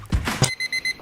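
An alarm clock rings in a short burst of repeated, evenly spaced beeps after a few louder clattering thuds, close and clear with no talking.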